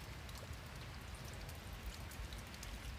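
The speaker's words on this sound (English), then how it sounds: "Did you guys see? It's raining." Rain falls steadily outdoors near a house garden, a soft continuous patter of drops on surfaces, even and faint throughout with no voices.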